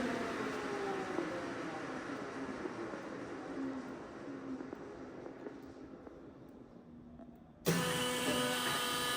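A Leblond Regal 19-inch by 54-inch engine lathe keeps up a steady mechanical whir that slowly winds down, and then a louder, brighter machine tone cuts in abruptly near the end as the gears shift to a new speed.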